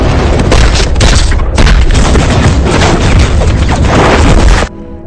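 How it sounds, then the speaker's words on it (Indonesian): A gunshot rings out in a film fight scene, a loud booming blast whose harsh, crashing roar fills about four and a half seconds before cutting away sharply to quieter sound. "Kapten Zhao langsung menembak leher gadis tersebut."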